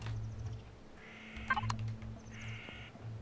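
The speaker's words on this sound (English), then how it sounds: "Yeah, I hear you, birds." Bird calls in the Empyrion Galactic Survival video game, two drawn-out raspy caws plus a few brief sharp chirps in between, moderately loud over a low ambient drone, with no talking.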